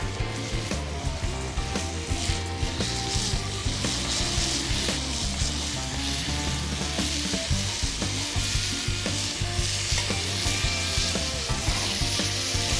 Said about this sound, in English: venison goes right into this pan.